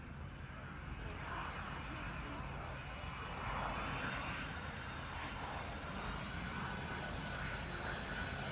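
A DHL Boeing 767-3JHF cargo jet flying an air show display at RIAT, a continuous broad engine roar that swells slightly mid-pass, heard at a distance over crowd murmur.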